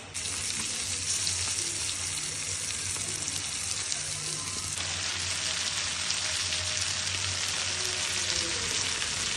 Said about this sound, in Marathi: आता मी कोळंबी फ्राय करते आहे